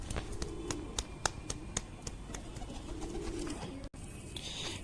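A young pigeon chick coos softly against a steady background hum, with a few sharp clicks or taps spaced through the first half and no talking.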